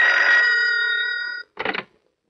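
Old-style telephone bell ringing indoors, one long sustained ring of over a second, then a short pause and a brief second burst, loud and clear with no talk.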